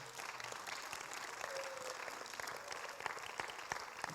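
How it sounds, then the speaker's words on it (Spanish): Church congregation applauding together during a Spanish-language worship service, a steady wash of many hands clapping for about four seconds with a few faint voices underneath. "Denle un aplauso fuerte al Señor."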